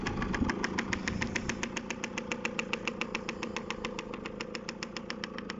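A Beta RR enduro motorcycle engine, freshly started after being oiled, idles with a steady, rapid pulsing putter, close and fairly loud, holding an even rhythm throughout with no voices.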